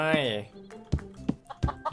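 A chicken clucks close by in a short burst of a few clucks and calls, with nothing else around them.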